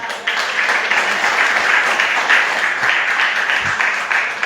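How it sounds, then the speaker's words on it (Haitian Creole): A church congregation claps loudly and continuously, a thick, even wash of applause from many people that lasts throughout. "On applaudit."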